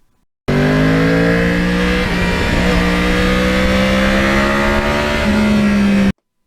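Yamaha R1 crossplane sport motorcycle accelerating hard with the throttle opened, engine note rising steadily over about six seconds, loud and close, with a brief gear change near the end and no talking.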